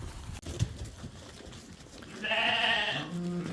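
A Wiltshire sheep gives a loud, clear bleat close by outdoors, following quieter rustling and ambient noise.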